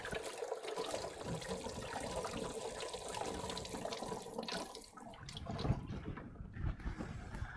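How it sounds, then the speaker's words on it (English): Kitchen tap water runs steadily while hands are washed under it at a home cooking counter, a continuous close splashing stream that shifts near the end as the hands move through the flow. "Wash my hands first."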